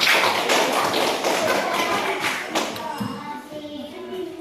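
Children in an Indonesian elementary school classroom clap their hands together in a dense burst of claps that fades after a few seconds, with the room's background voices continuing underneath.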